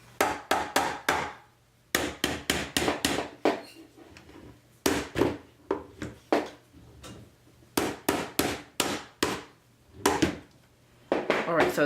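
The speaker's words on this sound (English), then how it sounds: "So we have to hammer it in" A hammer drives the main board of a Dobot Magician robotic arm into place with sharp, close, loud strikes in quick bursts of four to six, separated by short pauses.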